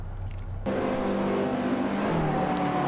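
A Lotus 211 engine in a racing video game, holding a low idle drone before jumping sharply into a loud, sustained, rising rev with layered harmonic whine and a gear shift near the end, with no talk.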